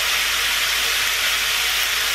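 Chicken seasoned with salt, paprika, garlic and chili powder cooks in a pan for street tacos, giving a loud, constant, even sizzle with no pauses and no talking.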